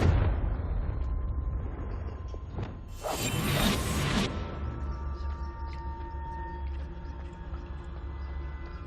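Confringo fire spell in the video game Hogwarts Legacy, a whooshing cast followed by a loud fiery blast burst lasting about a second, then a lingering low rumble and fading crackle.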